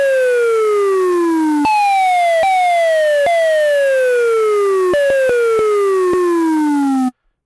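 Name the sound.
synthesized siren sound effect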